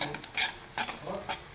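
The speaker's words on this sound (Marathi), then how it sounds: "ह्याच्यातच आपल्याला आता बेसन पण परतवून घ्यायचं आहे" Gram flour being stirred and roasted with spices in hot oil in a pan, giving a few short scraping stirs over a soft sizzle, close and fairly quiet, with no talking.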